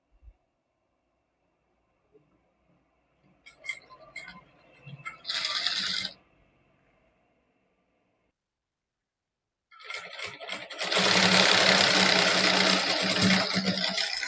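A sewing machine runs a double stitch in short bursts, a brief whirring run, a pause of near silence, then a longer, louder steady rattling run close by, with no talking.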